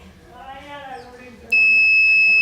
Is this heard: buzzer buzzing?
yes